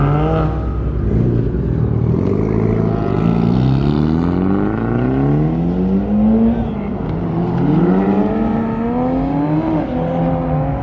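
Mitsubishi Evo cars at a car meet rev and pull away, their engines rising in pitch through repeated gear climbs, loud and close, with several overlapping accelerations over about eleven seconds.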